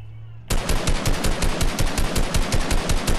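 Rapid automatic gunfire erupts abruptly after a short quiet moment, a loud, evenly paced stream of shots repeating steadily until the end with no pauses.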